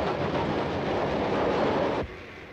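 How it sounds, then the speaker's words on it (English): A steam train runs in a 1937 adventure serial, a loud steady rushing rumble with chuffing texture that holds for two seconds, then cuts abruptly to a quieter background. "Then catch that train."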